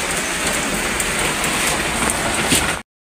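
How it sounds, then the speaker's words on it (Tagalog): Heavy rain pours steadily and loudly on a surface, a dense continuous patter that cuts off abruptly. "yan malakas ang ulan"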